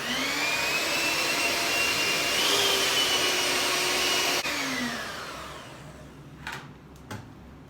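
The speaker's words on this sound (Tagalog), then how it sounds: "we're going to beat this one. Using hand mixer." Electric hand mixer beating butter and confectioners' sugar for a chocolate birthday cake, a loud steady whine with shifting pitch that drops in level toward the end, followed by a couple of short clunks.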